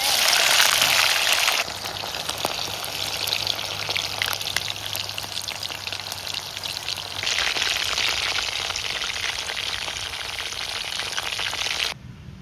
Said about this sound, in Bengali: হালকা আছে, আস্তে আস্তে টুকটুক করে সুন্দর কিন্তু ভেজে নিয়েছি